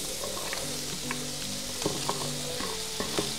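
Bottle gourd pieces frying in an oil tempering of mustard seeds, urad dal, chana dal, garlic and onions, giving a steady close sizzle with occasional stirring scrapes and clicks.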